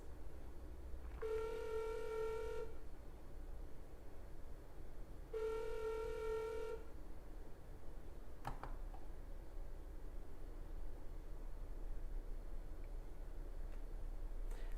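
A video call placed from a BenQ smart projector gives two clean electronic ringing tones, each about a second and a half, separated by a pause, then a faint click and quiet hum.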